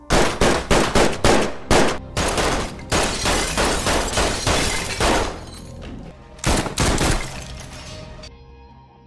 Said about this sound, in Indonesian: ternyata Miriam terkena tembakan dari pistolnya Kyle yang menembus dinding